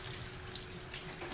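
Chicken frying in hot oil, a soft, steady, close sizzle with a constant hiss and no voices.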